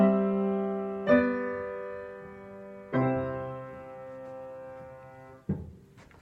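Piano-like sustained chords, a cadential six-four resolving to a five-three chord, played as three separate struck chords that each ring and decay, with no voices.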